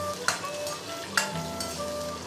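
Ginger and whole spices (green onion, star anise, bay leaf, cinnamon, Sichuan pepper) sizzle steadily in oil in a hot iron wok over low heat, with two sharp metal clinks from a stirring utensil.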